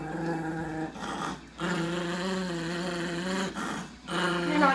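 A protective dog growls in long, rumbling, close-up stretches, broken by brief pauses for breath, with no talk over it.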